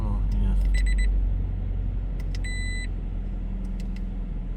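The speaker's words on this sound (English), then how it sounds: "They put buzzer on as well" A retrofit speedometer warning buzzer in a Toyota GT86 sounds in short, bright electronic beeps, one quick cluster and then a longer steady tone, over engine and cabin noise with people talking.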